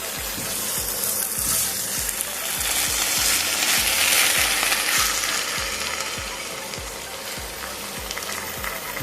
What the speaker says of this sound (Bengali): এবারে আমি কিছুক্ষণ ঢাকা খুলে কষে নেব